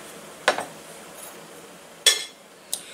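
Rose gold cocktail shakers clink and rattle in three short metallic bursts, one near the start, one a bit later and a fainter one at the end, with quiet pauses between them and no talking.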